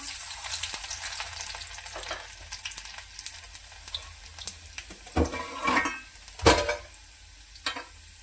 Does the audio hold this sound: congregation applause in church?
no